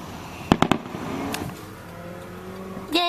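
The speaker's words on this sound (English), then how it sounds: "Yay, fireworks!" Fireworks burst nearby, heard from a car waiting at a stoplight: three sharp cracks in quick succession, then a softer pop and a last loud burst at the end over a low steady background hum.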